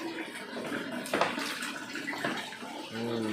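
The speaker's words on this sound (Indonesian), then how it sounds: "Siram pakai ini. Pakai gayung lah." Water poured from a dipper to douse a fire at the Bukit Si Kabayan campground on Gunung Bunder, Bogor, splashing in a broad wash with a sharper splash near the middle, and a voice is heard briefly at the end.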